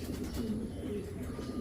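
A breeder stock pigeon in a loft coos steadily, its low murmuring notes repeating close by over a faint background.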